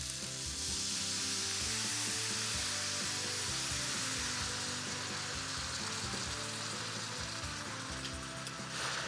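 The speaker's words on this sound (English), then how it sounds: "add a little bit of white wine to this. Just deglaze the peppers of the sausages a bit." Peppers and sausages sizzle loudly in a pan as white wine goes in to deglaze, making a dense, continuous hiss and crackle close up with no talk over it.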